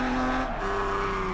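Race car engine in GRID Autosport drops pitch sharply on a quick downshift, then holds a high, strained rev, loud and close with no voices.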